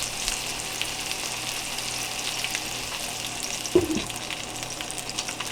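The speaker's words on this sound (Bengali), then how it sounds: "আলুটা একটু ভাজা ভাজা করবো" Potato pieces frying in a pan with a little cumin for khichuri give a steady close sizzle, with a sharp clatter of a lid or utensil near the end and no talking.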